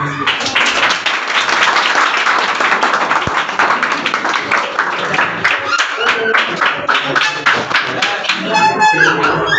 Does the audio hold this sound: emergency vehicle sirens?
no